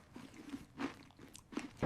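A dad chewing food in a quick series of soft, close crunching bites, with brief pauses between them and a louder burst at the end.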